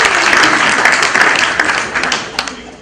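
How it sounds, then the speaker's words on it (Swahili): A church congregation at a service in Thika, Kenya, breaks into dense, loud applause, a continuous close wash of clapping that thins slightly toward the end. "Pigeni makofi."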